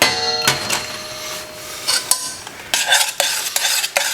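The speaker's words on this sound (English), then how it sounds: "So now this is simmering." Thick ajvar red pepper spread simmers in a pot while a utensil stirs and scrapes, giving repeated close clinks and wet, bubbling sputters in irregular bursts, with no talk.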